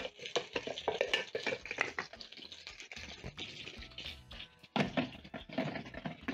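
Chopped onions being scraped and tipped into a food processor, a series of soft irregular scrapes, taps and rustles, close and fairly quiet with no talking.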